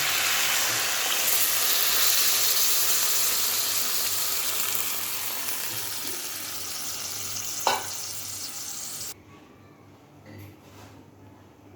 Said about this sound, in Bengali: জিরের গুঁড়োটা দিয়েই এর মধ্যে দিয়ে দেবো পরিমাণ মতো জল